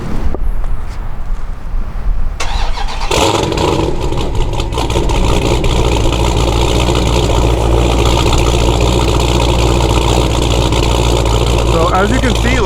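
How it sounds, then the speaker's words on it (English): A truck with a 426 HEMI engine idles loudly in an open parking lot. The deep, throbbing rumble is steady and constant, preceded by a brief quieter stretch, and someone talks over it. "this is just a standard idle"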